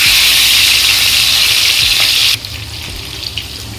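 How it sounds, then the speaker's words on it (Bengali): Katla fish pieces rubbed with salt and turmeric fry in hot oil, giving a loud, dense, close sizzle that drops sharply to a quieter crackle partway through. "মাছে আমি নুন হলুদ মাখিয়ে নিয়েছি আর এইদিকে তেল গরম হয়ে গেছে। এবার আমি মাছগুলোকে এক এক করে দিয়ে দেবো।"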